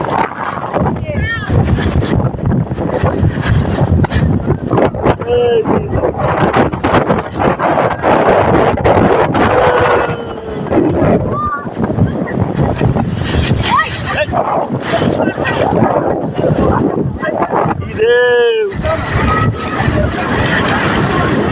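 Sea waves break on the beach at Cox's Bazar in a loud, continuous rush with heavy wind buffeting the microphone, while a person talks and others are heard close by.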